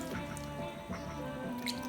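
Water poured into samosa dough, giving a close, wet dripping and trickling over a steady, fairly loud background for about two seconds.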